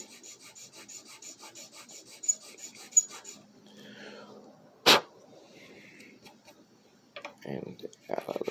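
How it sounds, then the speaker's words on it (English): Rasping file strokes on the plastic nut or bridge of a Hondo 2 classical guitar during a setup, a steady series of close scraping rubs, then a sharp click and a few louder knocks near the end, with no talking. "I'm just going to keep filing."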